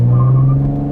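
A 2020 Chevrolet Camaro pulls away from a stop at full throttle, its engine a loud, steady low drone with a strong harmonic hum close by, with no voices over it.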